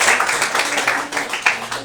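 A church congregation claps and applauds in a steady, fairly dense patter that lasts just under two seconds, with no distinct voice over it.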